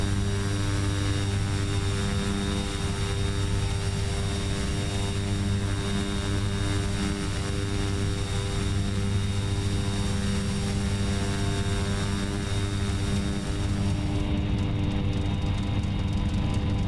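Cessna 208B turboprop in the X-Plane 10 flight simulator, its engine roaring in a loud, steady drone with a constant humming tone throughout.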